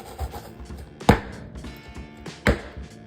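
A metal apple slicer is pressed through halved potatoes to cut them into wedges, giving two distinct sharp crunching chops about a second and a half apart over faint kitchen background noise.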